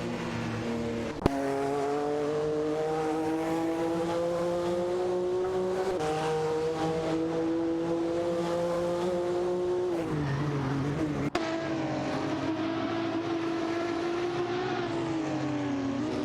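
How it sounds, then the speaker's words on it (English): Race cars in a racing video game, a Pagani Zonda C12 among them, hold a steady high engine whine that rises slowly in pitch, with two sharp shifts and a brief skidding tire squeal, loud and continuous with no talk. "Nihookstulakra is behind the wheel of a Pagani Zonda C12, while Tankamin 704 is piloting a Dower 962."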